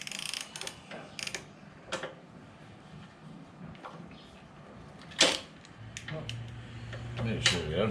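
A wrench ratchets as a Yamaha Bolt motorcycle's rear shock bolt is tightened, giving faint, uneven metallic clicks and scrapes at close range with a low mechanical hum near the end.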